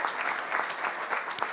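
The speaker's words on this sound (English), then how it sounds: "Give him a round of applause." A quiet, continuous patter of audience applause during a sports-themed webinar event, a brief steady wash of many hands clapping at a distance.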